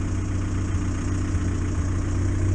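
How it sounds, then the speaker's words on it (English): A 1962 Morris Minor engine runs at a steady idle, a close, even low rumble with no pauses. "that engine definitely sounds sweet"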